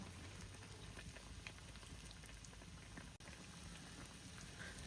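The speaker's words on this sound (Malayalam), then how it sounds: "അതിൻ്റെ ആ ഒരു കളർ ചേഞ്ച് ആവണത് വരെ നന്നായിട്ടൊന്ന് ഫ്രൈ ചെയ്തെടുക്കുക" Bread snack frying in hot oil, a steady, dense crackle and fizz, soft but continuous like light rain, with no pauses.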